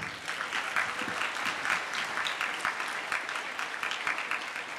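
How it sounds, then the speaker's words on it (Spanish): Sustained audience applause at a student council swearing-in ceremony in a school, dense steady clapping from a large crowd filling the whole stretch with no pause. "Despidamos al Consejo Estudiantil 2013 con fuertes aplausos."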